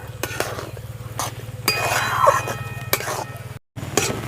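Bread and milk powder dough is stirred in a pan over low heat, giving repeated clinks and scrapes of a utensil against metal in a steady rhythm over a low hum, with a brief pause near the end.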